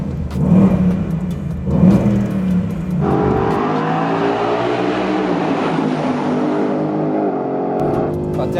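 A Ford Mustang GT V8 rated over 450 hp revs inside a tunnel, the loud engine blipping twice and then holding a deep, sustained roar that echoes off the walls.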